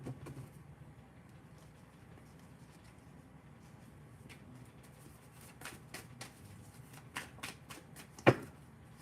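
A deck of cards being shuffled, with a soft continuous riffle and a sharper flurry of card snaps near the end, heard fairly close over a low background hum.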